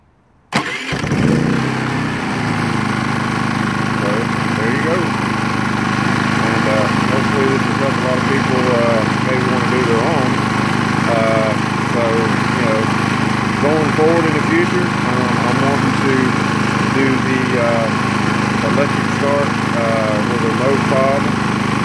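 A Predator 3500 generator engine with an automatic choke runs steadily at close range, a continuous even drone with a faint rhythmic warble layered over it for the full length, after a brief quiet start.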